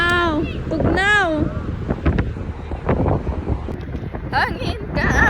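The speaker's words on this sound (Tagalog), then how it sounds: "Hangin kaayo." Strong wind gusts outdoors in Norway buffet the microphone with a steady low rumble while people talk close by.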